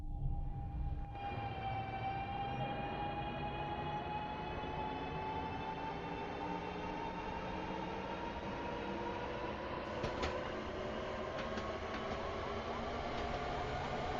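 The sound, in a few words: train running on rails, video game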